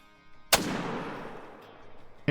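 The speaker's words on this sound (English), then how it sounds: "Perfect shot with the 30-06" A single .30-06 rifle shot in the hunting game Call of the Wild, a loud sharp crack followed by a long echoing decay across open country, then a faint click at the end.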